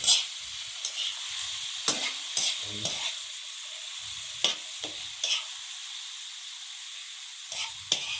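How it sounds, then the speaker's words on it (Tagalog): Sotanghon glass noodles and pork stirred in a pan, with a soft steady sizzle broken by repeated sharp scraping strokes of the utensil, close and fairly quiet, no talking. "magluto tayo ng sotanghon"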